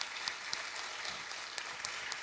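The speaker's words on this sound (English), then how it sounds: "Would you please give Robert Wells a round of applause?" Audience applause after a talk at a health policy forum on youth mental health, a steady patter of clapping at moderate distance lasting a couple of seconds, fairly soft overall with a few sharper claps standing out.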